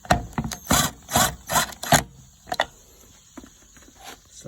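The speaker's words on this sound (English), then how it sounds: "But typical screwing here, so I know it's boring." Screws being driven into wood while building a septic tank riser, as a string of roughly five loud rasping bursts in the first two seconds, then quieter scattered taps and rubs.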